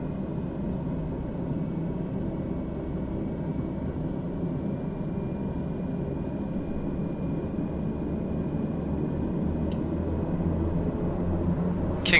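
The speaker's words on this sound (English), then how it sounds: "King Air needing quite a lot of power to get the aircraft moving." Beechcraft King Air turboprop engines in Microsoft Flight Simulator powering up for taxi, a steady droning hum with a faint whine that gradually builds in loudness, heard alone without talk.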